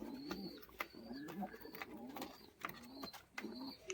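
White Madras pigeons, a breeding pair, coo softly in low, repeated bursts, with faint mechanical clicks and rustling between the calls.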